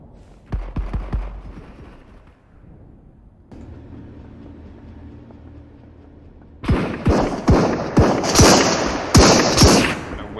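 Video-game gunfire erupts as a string of loud, sharp shots and bursts in the second half, after a quieter stretch of low rumbling and scattered thuds.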